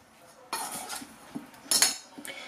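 A spoon stirs cake batter in a bowl until the flour disappears, giving a few separate bursts of clinking and scraping against the bowl, the loudest near the end, close and with no talking.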